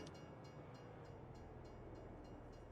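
A train in the farming game Farming Simulator rolls past with a steady low rumble and a faint, regular clicking of wheels over rail joints, quiet and continuous with no voices.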